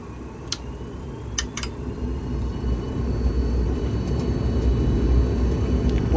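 Jet engines spool up for takeoff in a full-motion Boeing 767 flight simulator, a steady broad roar building gradually in loudness, with a few sharp clicks and ticks from the cockpit early on, no voices.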